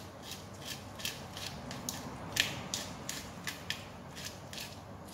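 Pepper mill grinding black pepper over a sun-dried tomato, mozzarella and feta salad, a quiet run of short rhythmic creaking, ratcheting twists repeating steadily, close by with no talk.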